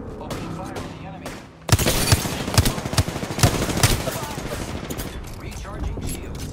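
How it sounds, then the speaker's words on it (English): Video game gunfire erupts after a quiet stretch: a burst of sharp automatic shots with periodic louder cracks, close and dense, continuing under ambient battle noise. "Opening fire on the enemy."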